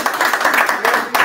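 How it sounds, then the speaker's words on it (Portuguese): A group of people clap hands together in tribute after an expedition to Alto da Serra Fina, brisk, dense applause sounding close and steady throughout, with no talk over it. "Uma salva de palmas para vocês."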